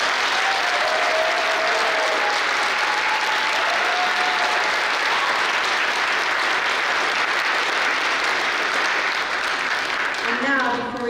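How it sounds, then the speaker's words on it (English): A school concert audience gives a loud, sustained round of applause for a student world music band, the dense clapping filling the room steadily for about ten seconds before fading near the end. "Can we have one more round of applause for the Jane Addams Band"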